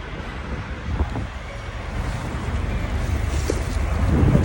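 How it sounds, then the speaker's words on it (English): Wind gusts at a truck stop on a snowy day, a continuous low rumbling buffet against the microphone that slowly grows stronger, with no talk over it. "Wind's blowing."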